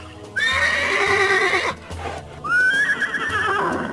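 Two loud whinnies from a grey horse, one after another, each a high shaky neigh that drops off, with a low thudding rumble underneath.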